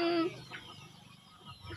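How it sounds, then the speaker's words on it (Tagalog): A chicken lets out a brief cluck-like call at the start, followed by faint scattered farmyard sounds, fairly close but quiet. "Paano ang tilaok ng manok?"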